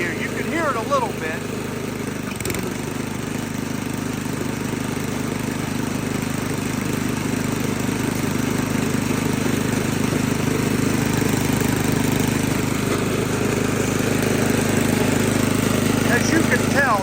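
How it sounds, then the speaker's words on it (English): A Craftsman snow blower engine runs with the auger engaged, giving a steady, moderately loud mechanical drone with a faint rattle of its shrouding, while someone talks over it. "let's kick the auger in here. You can hear it a little bit."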